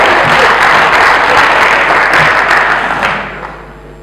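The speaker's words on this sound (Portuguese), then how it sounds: "Uma salva de palmas!" Audience applause fills an entrepreneurship conference hall, a dense, sustained wash of many hands that holds steady for about three seconds before thinning and fading out.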